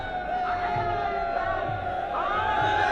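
A large crowd cheers and shouts at a Rahul Gandhi rally in Makrana, a sustained, fairly distant roar of many voices with a steady tone running through it and occasional louder swells.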